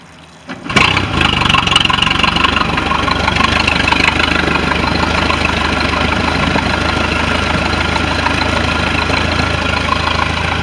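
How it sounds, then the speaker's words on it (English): A Mercruiser IO boat engine, overheating, catches after a brief crank, then settles into a steady, loud, rumbling idle that holds evenly close by with no talk. "start her up"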